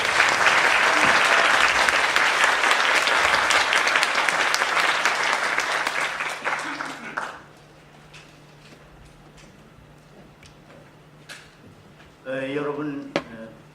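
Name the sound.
audience applause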